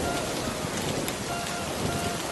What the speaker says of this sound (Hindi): हरिया, ये बारिश तो रुकने का नाम ही नहीं ले रही है।